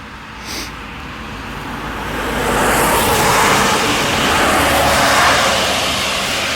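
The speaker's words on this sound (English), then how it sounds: "Beware the car." A car passes on a road outdoors, a broad steady rush of tyre and engine noise that swells and holds loud with no speech over it.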